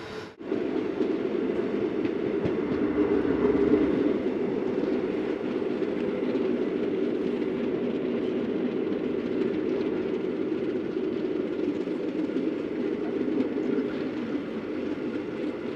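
The Palakkad Town–Tiruchi Express rolls along near Singanallur station, a continuous loud rumble and rattle of the carriages heard from on board, steady throughout with no talk.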